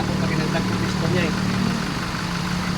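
Idling engine of a 2014 Chevrolet 4x4 with automatic transmission, a steady low rumble heard up close throughout, with people talking over it during a car viewing in Iloilo City.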